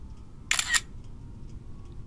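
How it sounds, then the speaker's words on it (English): A single camera shutter taking a selfie, a crisp double click close up, short and sharp against near silence. "let me just take a selfie"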